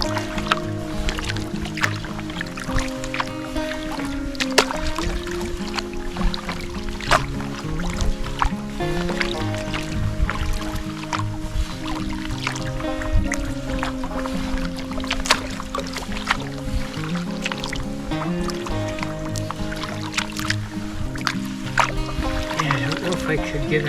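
Canoe paddled upstream on a northern Wisconsin river after ice-out, steady watery strokes and gurgling current close by, with someone talking over the paddling throughout.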